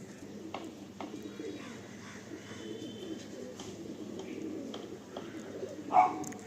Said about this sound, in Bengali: বাকি এই হচ্ছে আমাদের পায়রা